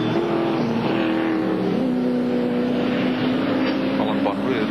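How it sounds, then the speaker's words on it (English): A big V8 Camaro race car driven hard by Colin Bond during a 1982 AMSCAR round at Amaroo: a loud, sustained engine roar with shifting pitch fills the whole stretch, with a commentator's voice over it. "Colin Bond really throwing that big Camaro around with gay abandon"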